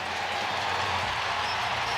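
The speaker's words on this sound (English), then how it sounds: "a pro-Yankee crowd cheering" A pro-Yankee baseball crowd at a New York Yankees versus Tampa Bay Rays game roars in a continuous, broad wash of cheering and clapping, loud and sustained throughout without any clear voices above it.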